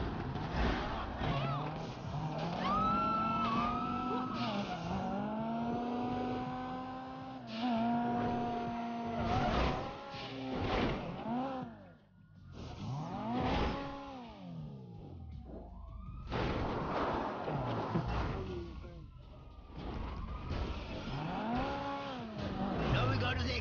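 Car engine in the GTA 5 video game, revving and accelerating through repeated rising and falling whines, with siren-like wails mixed in, loud throughout with brief dips in between.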